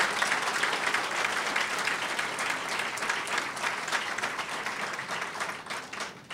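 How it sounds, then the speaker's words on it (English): A crowd at a union Local 237 executive board installation ceremony breaks into a big round of applause, many hands clapping in a continuous, even roar that holds steady for several seconds, moderately loud and free of talk. "We should give him a big round of applause"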